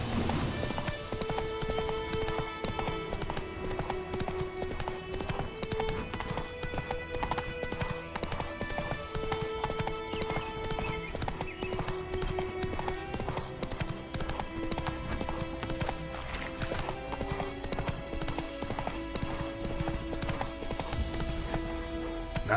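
Hooves of a galloping horse in The Witcher 3 beat in a fast, continuous clip-clop under a constant bed of game music.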